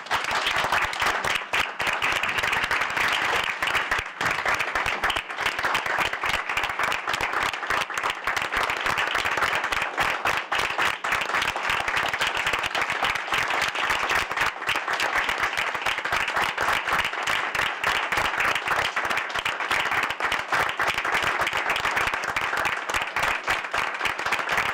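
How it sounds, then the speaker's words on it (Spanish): A crowd at a memorial gathering in Honduras claps steadily for a long stretch, a minute of sustained applause filling the space without pause. "pedir a todas y todos los presentes un minuto de aplausos en su memoria"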